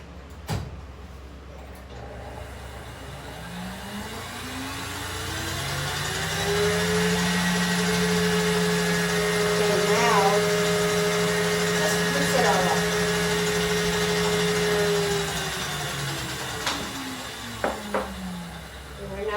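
Stand mixer mixing bread dough ingredients for coffee buns, a motor hum that rises in pitch and holds steady, then winds down, with light clatter near the end; no one talks over it.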